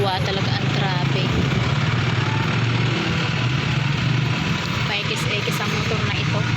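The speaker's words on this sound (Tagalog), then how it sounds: "Paikis-ikis ang motor na ito." A motorcycle weaves through traffic, its engine a loud, continuous buzzing drone close by, mixed with surrounding street traffic noise throughout.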